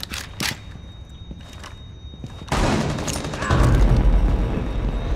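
Gunfire in Rainbow Six Siege: a few sharp scattered shots early, then a loud sustained burst of firing that swells near the end, with faint voices underneath.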